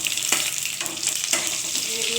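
Green and ripe chillies frying in a pan with cumin, a steady bright sizzle throughout with a few sharp spits and pops, close and continuous with no voices.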